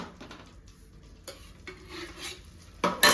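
Ladoos cooking in ghee for Ganesh Chaturthi, with a soft stirring and sizzling close by, pan and utensil clinks, and a loud burst of scraping or sizzle near the end.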